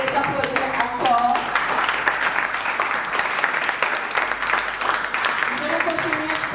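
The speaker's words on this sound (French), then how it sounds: "Je vous prie de les applaudir encore." Steady audience applause fills the whole stretch, dense and loud, with a voice speaking over the clapping at the start and again near the end.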